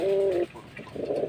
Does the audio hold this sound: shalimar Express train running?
no